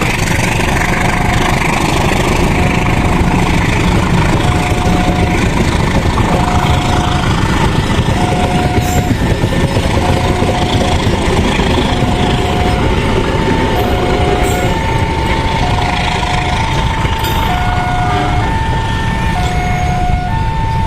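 Locomotive CC 018916 rumbles with a loud, steady engine drone close by, joined by a repeating pulsed tone and occasional sharp clicks over more than twenty seconds.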